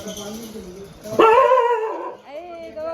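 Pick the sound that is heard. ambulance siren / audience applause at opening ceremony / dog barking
dog barking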